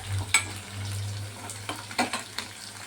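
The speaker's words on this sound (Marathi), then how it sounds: "कांदा बारीक चिरलेला असं परतून घ्यायचं गुलाबी रंग येईपर्यंत" Finely chopped onion sautéing in a pan until pink, a soft steady sizzle with a low background hum, broken by a few clinking stirs with a utensil; no talking.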